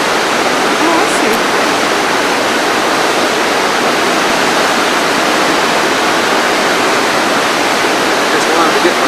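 Compressed air blows off at the Ragged Chutes hydropneumatic plant, a loud, continuous broadband roar like a waterfall that fills the whole clip without a break.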